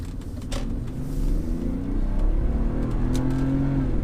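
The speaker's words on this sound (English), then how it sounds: "So I've just dropped it down to 1," A 2001 BMW E39 530i engine pulls in first gear in manual mode, a steady rising hum heard from inside the car over low road rumble, moderately loud with no talking.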